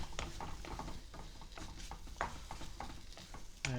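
Spiced bread pieces with chili powder, salt, garam masala and turmeric are scrambled in a pan, giving repeated soft scraping and stirring scuffs with light sizzling and clinks, no talk.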